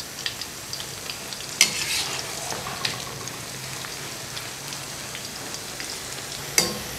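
Pakoras made with chopped and ground green chilies frying in hot oil make a steady, moderate sizzle. A couple of sharp clinks stand out, and there is no talking.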